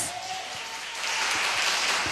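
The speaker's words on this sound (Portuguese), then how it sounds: "Aplaude Deus" A congregation in a worship service applauds together, a dense wash of clapping that swells and grows louder after the first second, with no voices standing out.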